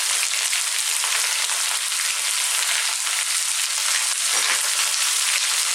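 Onion with a garlic-ginger paste fries over fairly high heat in a pan for a potato curry, giving a steady, loud sizzle that goes on without a break.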